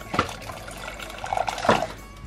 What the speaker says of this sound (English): And it pours out a shot.